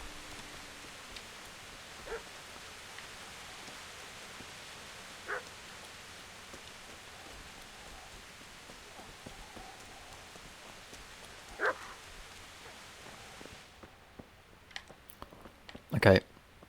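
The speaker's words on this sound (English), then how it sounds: "Where's this dog?" A dog barks in the medieval video game Kingdom Come Deliverance, a few faint, scattered barks far off over soft rain-like ambience, with a sharper, closer bark near the end.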